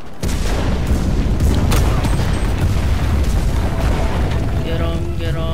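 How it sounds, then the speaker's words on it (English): A grenade explodes in a WW2 combat video game, a loud deep boom followed by a sustained rumbling roar of battle with scattered gunfire and a fading ringing tone near the end. "Grenade."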